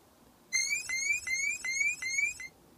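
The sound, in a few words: random retro sound effect from rFX Generator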